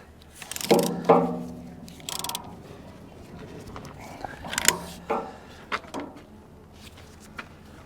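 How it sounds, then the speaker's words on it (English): A 1/2-inch ratchet cranks a strap wrench tight around a Bobcat fuel filter, giving scattered clicking pawl bursts and creaks separated by quiet gaps, close and fairly soft. "we're going to spin this strap as tight as we can. I'm using my 1/2-inch ratchet."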